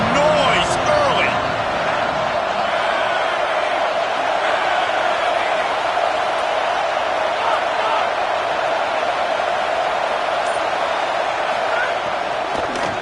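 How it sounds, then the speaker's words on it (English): Steady, dense crowd roar fills a college football stadium at a Georgia game, a constant wash of noise that runs under a commentator's speech. "This crowd bringing the energy and noise early."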